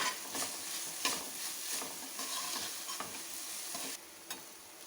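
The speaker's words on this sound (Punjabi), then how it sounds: "ਪਿਆਜ਼ ਨੂੰ 1 ਤੋਂ 2 ਮਿੰਟ ਭੁੰਨਣ ਦੇ ਬਾਅਦ ਅਸੀਂ ਇਹਦੇ ਵਿੱਚ 1 ਚਮਚ ਅਦਰਕ ਲਸਣ ਦੀ ਪੇਸਟ ਪਾ ਦਾਂਗੇ ਥੋੜੀ ਦੇਰ ਲਈ ਅਸੀਂ ਇਹਨਾਂ ਨੂੰ ਹੋਰ ਫਰਾਈ ਕਰ ਲਾਂਗੇ" Onions frying in a pan with ginger garlic paste while cooking stuffed potato snake gourd, a steady close sizzle broken by repeated stirring scrapes and clicks, with no talking.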